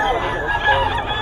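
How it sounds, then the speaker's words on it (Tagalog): Chickens and bullstag roosters at a busy pet market give honking, clucking calls over crowd murmur, with someone talking nearby. "Grabe, napakaganda ng mga manok ni Boss Perry"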